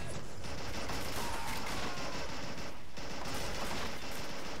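Sustained machine-gun fire in the Men of War World War II strategy game, loud dense rattling bursts that fill the whole stretch without a break.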